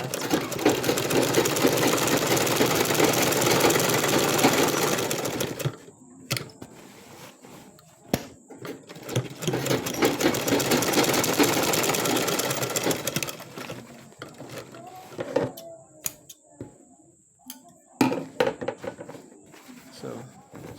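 A sewing machine stitches the upper edge of a trouser back welt pocket, running in two long steady bursts separated by a pause filled with small handling clicks and taps.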